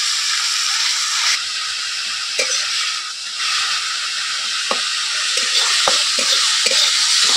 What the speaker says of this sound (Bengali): সব মশলাগুলো একটু আমি লাল করে ভেজে নেবো।